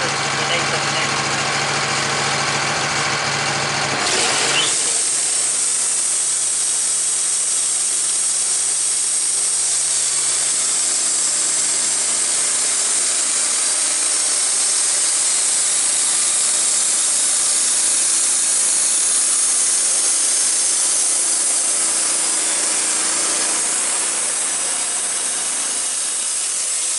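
A Woodmizer LT15 sawmill cutting bent pine into siding runs as a steady, loud engine-driven hiss and whine that continues for the whole stretch, with a change in tone a few seconds in as the blade enters the log.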